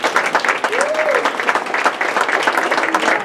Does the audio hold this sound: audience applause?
yes